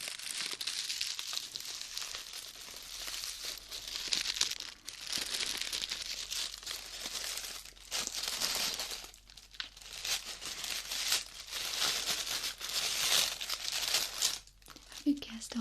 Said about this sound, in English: Don't you just love crinkling sounds?